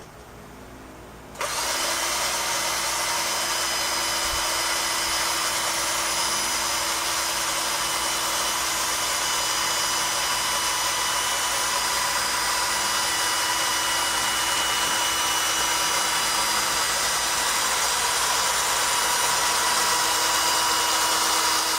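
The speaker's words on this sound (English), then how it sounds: "then you have a drill motor, you put the other end in the drill motor." An electric drill motor starts abruptly and runs at a constant high whine while twisting multiple wires clamped in a vise, loud and steady after a quiet opening second.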